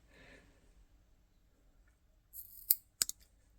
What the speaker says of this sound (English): I trim them off with about 1/2 centimetre left.